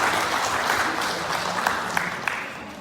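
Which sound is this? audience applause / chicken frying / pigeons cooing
audience applause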